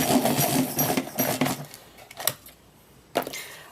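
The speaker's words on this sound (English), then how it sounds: "Let's sharpen them up." Colored pencils are ground in a pencil sharpener, a rough whirring grind lasting about a second and a half. A couple of short, sharp clicks follow after a pause.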